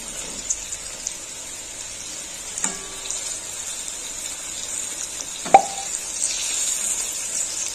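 Puli pitha dumplings fry in oil with a steady, soft sizzling hiss, broken by a couple of sharp clinks from a utensil against the pan.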